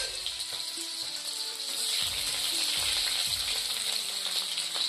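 Onion hitting hot oil in a village-style Assamese fish head recipe, a steady close sizzle and crackle that swells and stays loud throughout, with faint clinks of stirring.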